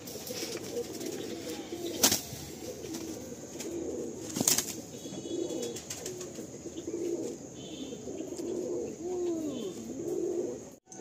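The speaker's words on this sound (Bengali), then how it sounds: "আসুন ছেড়ে দেখাচ্ছি পায়রাটা" Madrasi pigeons at a Kolkata loft coo softly in a steady murmur, with a couple of sharp wing claps standing out as a bird is let go.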